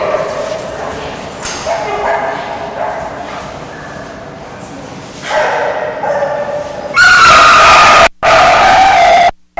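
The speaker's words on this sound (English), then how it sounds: "her screaming little puppy" A small dog at a dock-diving distance-jump event yaps and whimpers shrilly over and over, close and loud, over crowd noise and an announcer's voice, ending in piercing cries.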